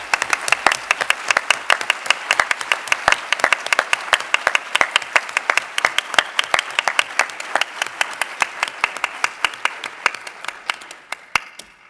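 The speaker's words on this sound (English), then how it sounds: "giving a round of applause and thanks to the patients and their families" At a scientific congress on SMA, an audience claps for patients and their families, a loud, crisp spread of many individual claps that holds steady for about ten seconds and then thins out toward the end.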